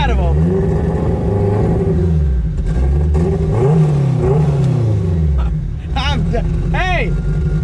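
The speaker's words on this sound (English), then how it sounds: "Now I know why you guys rev the shit out of them." A turbocharged Honda with a twin-disc clutch revs and pulls hard while driving, its loud engine rumbling and rising in pitch, and voices shout over it near the end.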